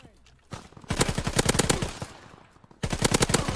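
A submachine gun in Call of Duty WW2 fires rapid, loud bursts, a long stream of closely spaced shots followed by a pause and then a second burst.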